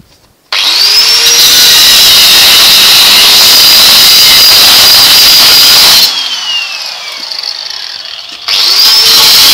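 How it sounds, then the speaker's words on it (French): An angle grinder grinds down tack welds on a welded metal bumper for a buggy, a loud, steady high-pitched whine that runs continuously, briefly drops in pitch and load, then picks up again at full intensity. "on a juste en principe à lui donner un coup de disqueuse"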